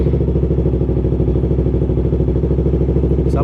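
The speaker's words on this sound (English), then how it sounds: "Okay, so right now I'm gonna go ahead and start up the bike." A Yamaha R3 motorcycle engine runs at a steady, close idle with an even low throbbing pulse throughout, loud and alone.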